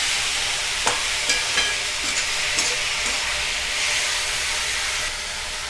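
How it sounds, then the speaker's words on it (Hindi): Chili and ginger paste sizzling steadily in a pan for paneer bhurji, with a constant bright frying hiss and a few soft scrapes and clicks as it is stirred. "अब इसमें हम मिर्चा और अदरक का पेस्ट डाल देंगे और अच्छे से मिला लेंगे।"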